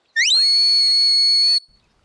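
A shepherd's single loud, sustained whistle command to a sheepdog lasting over a second, opening with a quick upward sweep before holding steady on a bright, piercing tone, then stopping abruptly.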